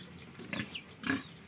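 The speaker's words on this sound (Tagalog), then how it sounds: "Sa aming mga babae naman, ito naman na mga baboy." Pigs on a rural provincial farm grunt and oink during daily feeding, two short nearby bursts of grunting with a quieter pause between them and no talk over them.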